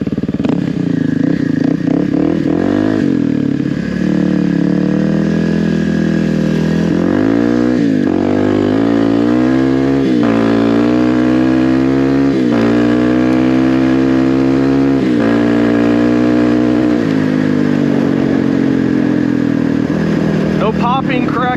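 A Kawasaki KLX300R dirt bike fitted with an EJK fuel tuner revs steadily up and down, its engine note rising and falling close and loud, with a rider talking over it throughout.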